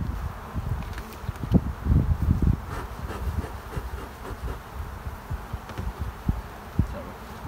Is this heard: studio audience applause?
no